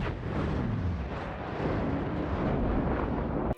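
A nuke launcher explosion in the video game Just Cause 3 rumbles as a loud, sustained roaring blast that fills the whole stretch with dense, booming noise before cutting off abruptly.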